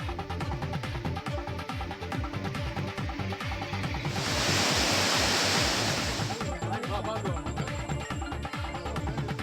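Floodwater roars steadily at Kumbakkarai waterfall near Periyakulam after heavy rain, with a loud broadband rush that swells to its fullest midway and then settles back to a constant churning flow.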